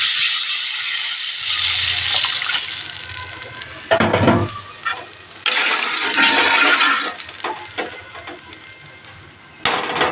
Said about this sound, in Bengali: বন্ধুরা আমার পেঁয়াজটা দেখো ভাজা হয়ে গেছে এবার আমি জল দিয়ে দেবো